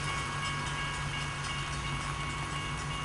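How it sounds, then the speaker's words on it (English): Norfolk Southern D9-40CW diesel locomotives rumble past nearby in the rain in Austell, Georgia, with a steady, loud roar and mechanical drone, backed by a running car's constant engine hum close at hand. "here comes a set of engines going to the yard or going up for helpers for the coal train"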